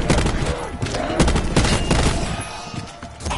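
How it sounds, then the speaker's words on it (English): A ray gun fires repeatedly in a video game, a dense, continuous barrage of loud zapping shots and blasts packed closely together for several seconds. "This ray gun may prove vital to extending my lifespan."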